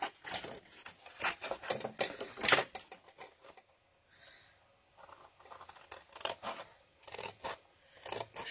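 Scissors snip through material in close, dry bursts, a cluster of quick cuts followed by a pause and then more intermittent snips, fairly quiet and with no voices.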